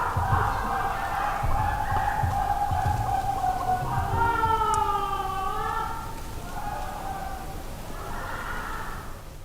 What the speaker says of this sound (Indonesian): suaranya ini seperti suara perempuan yang entah lagi kesakitan atau lagi ketawa dalam waktu yang bersamaan